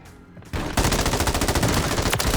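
In the video game Warzone, a quiet start gives way to loud, sustained automatic gunfire, a rapid string of sharp shots firing close and continuous for about two seconds.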